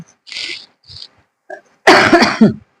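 A short cough burst near the end, preceded by a few quiet breaths and small mouth sounds, close and otherwise silent.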